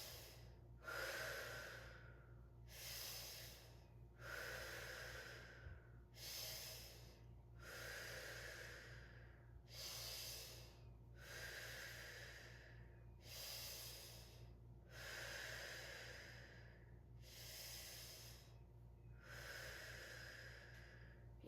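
Slow, deep breaths are drawn in and pushed out during a lower-body fascia hip stretch, about eight even cycles at a steady rhythm. The breathing is close and fairly faint over a low background hum, with no talk.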